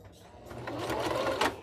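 A sewing machine runs in a short continuous burst, stitching close to the edge of pressed fabric for a Japanese knot bag wristlet. The whirring is loud and close and swells briefly near the end.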